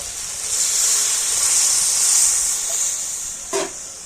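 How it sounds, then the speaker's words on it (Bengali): Hot water poured into a hot potato and jackfruit-seed curry, giving a loud, steady hiss that swells and fades over several seconds, close up, with a brief knock near the end. "এখানে আমি একটু গরম জল দিয়ে দিচ্ছি"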